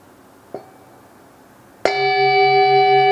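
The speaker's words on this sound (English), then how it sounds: "I'll invite the bell." A meditation bell is struck once, ringing out with a clear, sustained tone that hangs and slowly fades in a quiet room, preceded by a faint soft knock.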